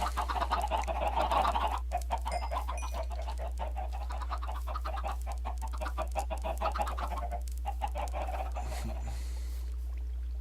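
Chickens in Minecraft cluck in soft, repeated bursts over a steady low hum, moderately near and without talk.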